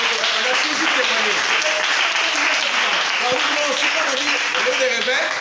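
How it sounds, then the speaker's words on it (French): A church congregation claps in sustained, dense applause that fills the room at full loudness, with voices audible underneath. "On acclame le Seigneur."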